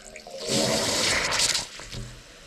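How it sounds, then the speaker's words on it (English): Water gushes into a well pump and its hose to prime it, a brief close rushing pour that swells and fades over a couple of seconds with no talking. "So the first thing I'm going to do is prime this pump."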